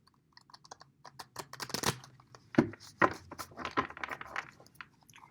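Tarot cards are shuffled close to the microphone in a quiet room, a run of crisp riffling clicks and soft slaps that come in uneven bursts.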